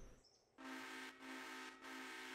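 A locomotive horn in a railroad game blows alone in three sustained blasts, each a steady harmonic chord, with the first and second cut off by short gaps. The third holds to the end.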